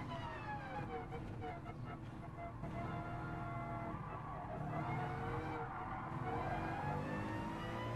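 4WD race car in Gran Turismo Sport, engine droning and revving continuously with rising gear-shift tones, a steady loud wail throughout.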